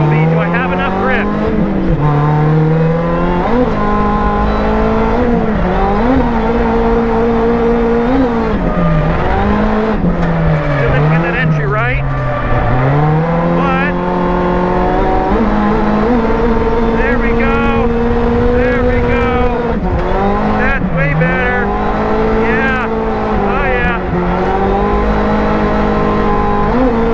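A low-power 1986 Toyota Corolla AE86 drifts on a fast race track, its engine droning loud and steady with continuous rising and falling revs throughout, close and unbroken.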